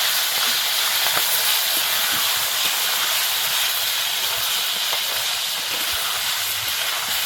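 Liver sizzles steadily in hot oil, a loud continuous crackling hiss with occasional pops.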